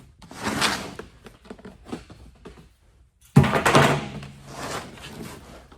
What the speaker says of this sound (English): let's bust open the last tote